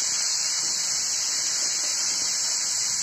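Boiled chalta fruit sizzles steadily in hot oil in a wok, a loud continuous hiss with no pauses or talk.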